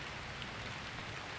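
Steady rain pours onto a large old tree with broad, leafy aged branches outdoors, a dense, even hiss of drops with no breaks, fairly close and moderately loud.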